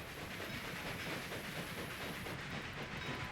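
A video game train rolls along its rails with a steady, dense rumble and hiss, close and continuous, with no voices.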